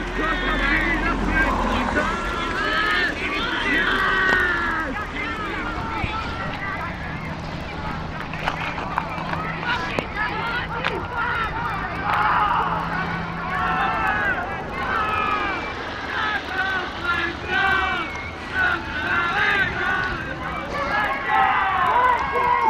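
Adults on balconies in Rocasey shout over a street fight, rough distant yells and jeering voices layered in a continuous noisy din, with someone talking nearby over much of it.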